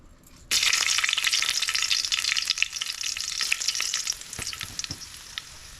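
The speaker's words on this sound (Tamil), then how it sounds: "எண்ணெய் சூடாயிட்டு இப்போ வந்து வரமிளகா சேர்த்துக்கிறேன்" Dried red chillies crackle as they drop into hot oil for a drumstick-leaf stir-fry, a sudden loud burst of sizzling after a quiet start that settles into steady close frying with scattered pops.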